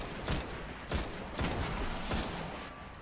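Gunfire in the video game Destiny: several loud bursts of shots crackle at irregular intervals over a constant noisy background, with no talking.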